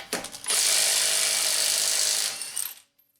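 A Milwaukee 3/8-inch impact wrench hammers at lug nuts on a Honda Civic in one loud, close burst of about two seconds, with a short rattle before it and the tool winding down at the end.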